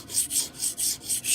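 A knife blade is rubbed back and forth across a fine-grit sharpening stone in six steady, close, raspy strokes with brief pauses between them.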